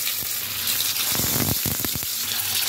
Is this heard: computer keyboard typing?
no